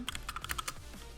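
A quick burst of about eight crisp keystrokes on a computer keyboard while a script is typed in Roblox Studio, close and clear with no talking.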